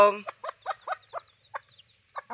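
A hen outdoors clucks in a run of short, close, clear clucks spaced unevenly over a couple of seconds, with a brief squawk at the very start and quiet between calls.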